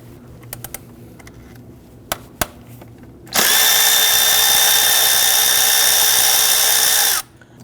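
A power tool loosens and removes an 8mm bolt holding an ignition coil on a 2013-2019 Ford Police Interceptor Utility 3.7L, a steady loud whine running about four seconds after a few light clicks.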